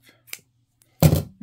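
Scissors make one short, crisp snip close by, cutting a strand of crochet yarn for a hanging dish towel, with a few faint handling noises before it and no talking.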